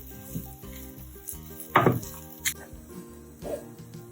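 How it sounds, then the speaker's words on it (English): Onions sautéing in a pan for paneer butter masala, a soft steady sizzle under a low background hum, broken by a few sharp spatula scrapes and clacks. "So the onions are sauteed well."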